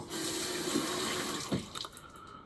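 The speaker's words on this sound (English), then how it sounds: "So we're just gonna add a little bit of water" Tap water is run onto a shaving soap lather in a bowl, a quiet, steady faucet stream with a couple of small splashy bursts before it trails off.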